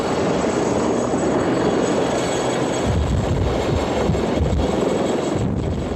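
A twin-engine military patrol aircraft that can fly on one engine, cruising over the Gulf, gives a steady, loud broadband engine drone with a low rumbling throb throughout, no voices.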